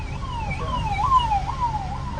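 Ambulance siren wailing in a rising and falling sweep on a road, loud and close over low traffic rumble, with no voices.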